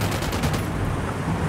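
Loud, dense gunfire crackles in a fast continuous burst of close shots, blending into a steady wash of noise.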